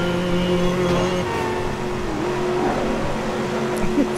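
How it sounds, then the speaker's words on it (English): Chevrolet XLR engine in the Midnight Club 3 racing game, a steady mid-pitched hum held at an even drone, fairly loud and continuous with no voices over it. "where the Scion sounded like it was gonna explode, this just sounds like it's bored. Well, it's an XLR."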